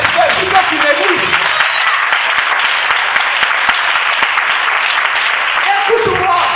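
A congregation applauds steadily through a church sermon, a dense, sustained wash of clapping with scattered voices calling out over it, holding at an even level from start to finish.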